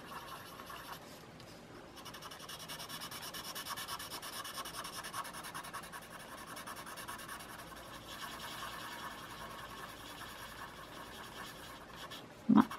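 Soft, continuous rubbing and scratching of a colored pencil blender on paper, quiet and close, with steady back-and-forth strokes and a brief louder bump at the end.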